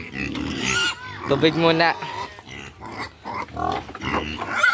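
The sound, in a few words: pigs being fed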